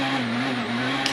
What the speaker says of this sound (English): Petter on the brakes, very late here.